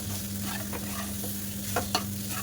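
A spoon stirs grated boiled potatoes and spices in a sizzling pan, steady frying hiss with a couple of sharper scrapes near the end.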